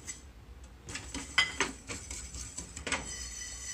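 Black sesame seeds being dry-roasted lightly in a pan for idli podi, heard as quiet, close rattling and ticking of seeds shifting against metal, with a few small clinks.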